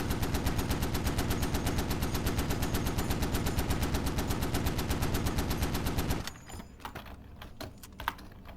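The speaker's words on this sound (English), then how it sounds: "let me go ahead and fire off the rest of this belt" An M2A1 .50 BMG heavy machine gun in the video game Squad fires a long, loud, evenly paced automatic burst through a belt for about six seconds, then stops, leaving faint clicks and handling noises.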